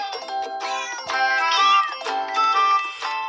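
Cartoonish cat meows from the Cat Condo video game ring out in quick succession, bright and close, mixed with chiming, tinkling game jingles.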